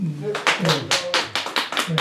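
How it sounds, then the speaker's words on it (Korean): Rhythmic audience clapping at a Korean traditional culture talk concert, steady bursts about every fifth of a second, moderately loud and mixed with voices throughout. "네, 박수 한번."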